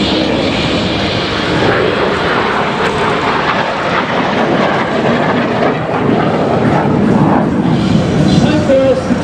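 Jet aircraft of the Patrouille de France aerobatic team performing a display at an air show, giving a steady, loud, broadband roar that holds throughout without a break, with an announcer's voice over the public address.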